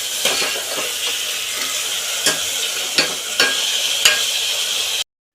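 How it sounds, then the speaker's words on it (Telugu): Onions and green chillies fry in a pan for goat head curry while being stirred, a steady hiss broken by several utensil scrapes and clinks, close and continuous before cutting off abruptly. "ఒకసారి కలిపేసుకొని మూత పెట్టుకుంటే బాగా మగ్గిపోతాయి"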